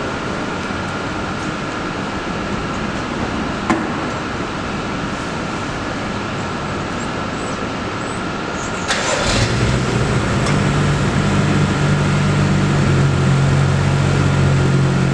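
A BMW E92 M3 fitted with VRSF test pipes and a K&N filter sits quietly before its engine cranks and fires up about two-thirds of the way in, settling into a loud, deep, steady idle.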